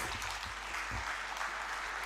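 Audience applause welcoming a speaker onto the stage at a wealth and happiness talk, a steady even wash of many hands clapping, moderately distant and continuous throughout.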